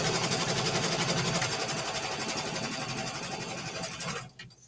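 Sewing machine running steadily as it stitches down a fussy-cut quilt block piece, a close, continuous rapid mechanical whir that stops abruptly near the end.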